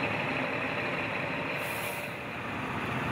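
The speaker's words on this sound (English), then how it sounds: "It's a tight fit for the lorry crossing the causeway." A heavy lorry with air brakes rumbles steadily across a narrow causeway to an island, following a crane. Its engine noise is loud and continuous, with a brief hiss of air partway through.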